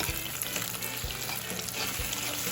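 Eggs sizzling in a pan for a Jamaican breakfast, a steady loud crackle and hiss with a few soft low thumps, no voices.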